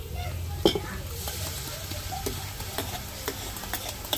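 Chicken curry with tomato paste sizzles softly in a pan while a utensil stirs and scrapes with occasional clicks against the metal, a steady low frying hiss running throughout.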